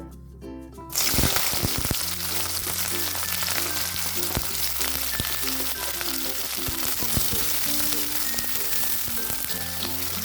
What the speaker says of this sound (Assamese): তেল গৰম হৈ গ'ল, এতিয়া মই ইয়াত পিঁয়াজখিনি দি দিছোঁ।